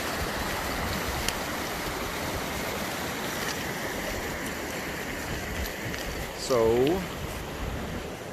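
Waves washing onto Glen May Beach on the Isle of Man, a steady soft surf roar mixed with wind, fairly faint and continuous, with a brief louder whoosh near the end and a voice barely heard.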